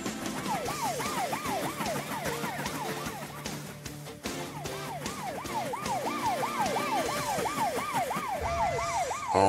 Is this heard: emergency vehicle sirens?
yes